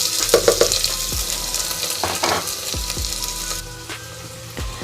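Fennel and cumin seeds fry in hot oil for dum-style keema biryani, a dense crackling sizzle with a few sharp pops and stirring scrapes that softens toward the end.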